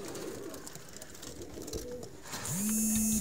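Soft, low coos from teddy breeder pigeons murmur throughout, joined near the end by a sustained tonal hum and a high whine.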